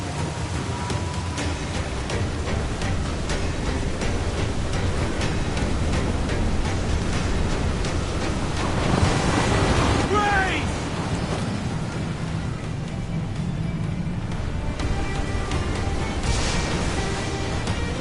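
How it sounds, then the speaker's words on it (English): A waterspout at sea in Assassin's Creed IV Black Flag, a steady loud roar of wind and rushing water, like a storm, with a brief swelling surge midway and faint voices underneath. "Water spout, man! Stay away!"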